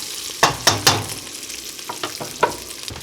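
Johnsonville sausage frying in a pan, with soft steady sizzle and several sharp scraping stirs near the start, then lighter intermittent stirring clicks; no voices.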